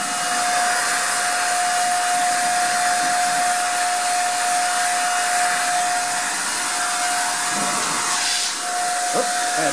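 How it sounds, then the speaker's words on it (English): Paint sprayer hissing steadily as it applies spray-on screen paint, a loud continuous airy whoosh with a constant tonal whine, close by, dipping briefly near the end. "It's a very easy, very controlled sprayer."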